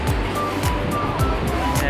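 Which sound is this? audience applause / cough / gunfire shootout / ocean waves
ocean waves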